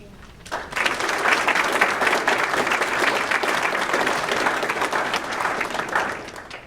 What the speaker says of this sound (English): I would like to request a round of applause for all the teachers